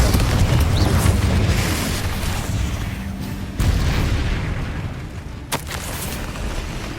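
Fiery Confringo spell blasts in Hogwarts Legacy on PS5: a loud, continuous rumbling barrage of booming impacts, with sharp cracks near 3.5 and 5.5 seconds and no clear speech.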